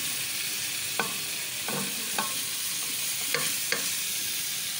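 Onions fry with ginger and garlic in a pan while cooking khichdi, giving a constant bright sizzle with several soft scraping stir strokes spaced through it.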